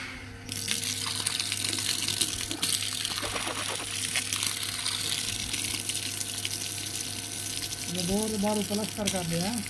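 Water from a 150-foot borewell gushes steadily out of a pipe in a continuous, close wash, with a pump humming under it, a few clinks, and people talking over the flow.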